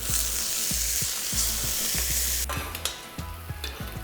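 Food sizzles steadily in a hot pan, with a few sharp clicks and knocks partway through as the crackling shifts.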